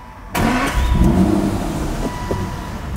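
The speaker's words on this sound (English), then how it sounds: "V12 fires right up." An Aston Martin DB9's V12 cranks and catches with a sudden loud burst, then settles into a strong, steady idle that stays close and dominant, with no talking.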